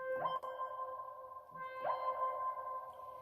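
Two sustained synth notes ring out one after another, each swelling with a glassy attack and trailing into a long, washy reverb tail.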